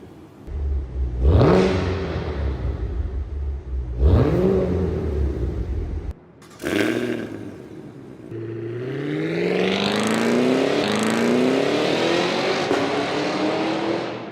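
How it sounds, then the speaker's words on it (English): A powerful supercharged SUV engine revs hard several times, rising roars with a high supercharger whine, then a long sustained acceleration building in pitch. "the unmistakable supercharger whine"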